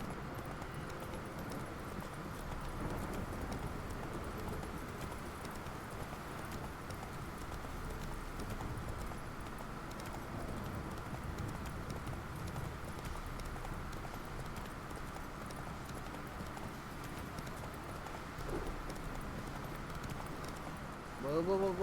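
Roach the horse in Witcher 3 clip-clopping along at speed, a quiet, continuous run of rhythmic hoofbeats over steady game ambience, with a brief louder knock at the very end.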